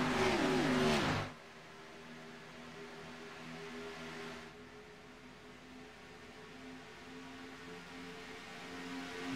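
Race car engines in a NEXTGEN Xfinity Series race, with a loud burst of revving close by at the start, then a steady, fainter engine drone from cars running side by side.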